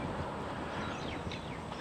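Steady broadband wind rush in Innisfail, Australia, continuous and fairly loud, with a faint high chirp or rattle drifting through it, strong enough to flop doors around.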